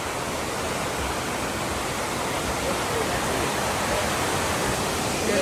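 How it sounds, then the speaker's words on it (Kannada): Small waterfall at a temple-area falls in Chikkamagaluru, water streaming through bushes as a steady, loud, continuous broadband rush with no pauses throughout. "ಎಲ್ಲ ಹರಿತೈತೆ ನೀರು"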